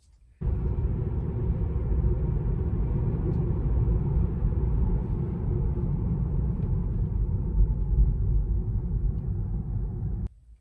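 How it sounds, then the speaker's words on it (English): Inside a Tesla Model 3 as it slows down, a low, steady road rumble and faint motor hum hold at moderate level, then cut off abruptly near the end. "The only sound you hear is when you're slowing down"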